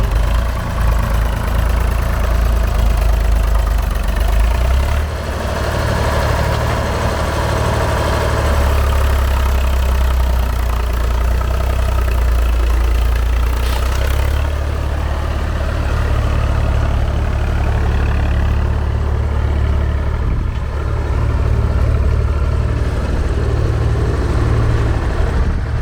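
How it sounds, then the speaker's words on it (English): A digger and a tractor idle on a farm road-building site, giving a steady, loud, low engine rumble that continues unbroken, with no talk. "I've got a digger behind me and a tractor in front of me."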